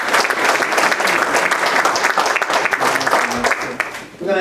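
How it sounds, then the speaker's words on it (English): Church congregation applauding for prayer, a dense, loud wash of many hands clapping steadily throughout, with some cheering voices mixed in near the end. "Give God a hand and clap for prayer."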